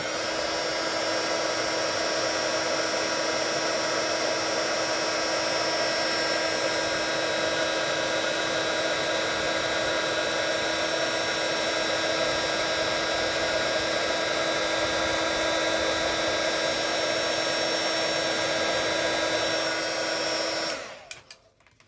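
A heat gun runs continuously for hot embossing on a scrapbook project, giving a steady loud whirring hiss with a fixed motor whine that holds for about twenty seconds before cutting off abruptly.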